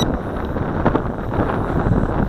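Gusty wind rumbles and buffets the microphone during a Syma X5C quadcopter flight on a windy day, a constant low roar with small fluttering surges.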